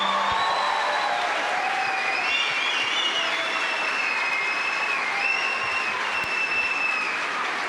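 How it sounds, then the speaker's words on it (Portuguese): Sustained, steady applause from a congregation at a church conference session, an even wash of clapping that stays constant throughout, with faint tonal sounds above it. "Será que a gente pode aplaudir mais uma vez?"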